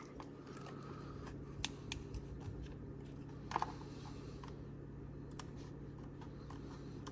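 Scissors cutting a plastic RC car body for an Injora SCX24 crawler, giving a run of quiet, irregular snips and clicks over a steady low hum, with no voices.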